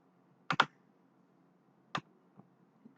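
A few sharp, isolated key clicks from a computer keyboard, close and fairly quiet, with a quick double tap followed by a couple of single presses against near silence.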